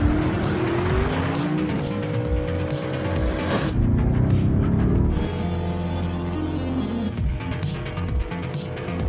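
Tires squeal in a film car chase as vehicles turn sharply in pursuit, with loud engine roar and skidding over a continuous dense mix, pitch sweeps rising and shifting across the scene.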